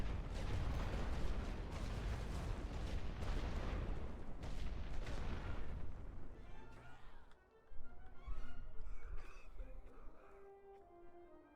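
Artillery firing gas shells in a World War One strategy game on the Western Front: dense rumbling booms and explosions, loudest early then thinning into scattered distant blasts, with someone talking over it.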